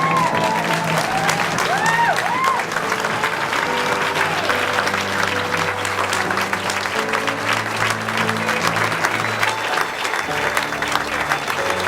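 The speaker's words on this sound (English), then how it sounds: "give a big round of applause to Mrs. Sonia Brown" Wedding guests applauding a sustained round with scattered cheers, while music plays beneath the clapping.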